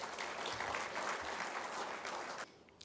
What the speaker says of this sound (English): Nice round of applause for him,